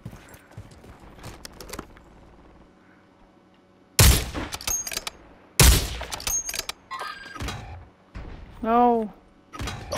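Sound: gunfire in Warzone 3 battle royale video game

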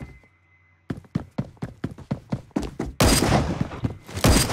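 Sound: gunfire in Phantom Forces video game

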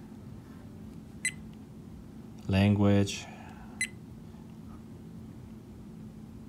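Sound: OnReal 4K action camera menu beeps

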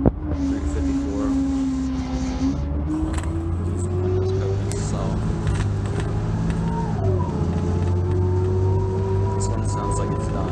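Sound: Orion VII CNG city bus engine running while riding

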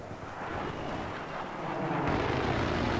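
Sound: jet aircraft engine thrust in Battlefield 3 video game

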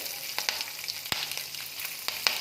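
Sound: green chilli frying in hot oil

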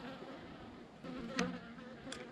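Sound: angry bees buzzing near beehives

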